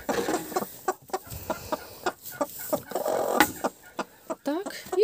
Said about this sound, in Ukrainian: Боже, яка криклива курка.